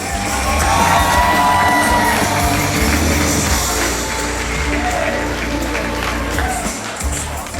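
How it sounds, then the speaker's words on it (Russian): Loud crowd applause and cheering with whoops and shouts rise for the winning team at a central Ukrainian youth festival, filling the hall steadily before easing slightly toward the end. "Аплодисменти їм!"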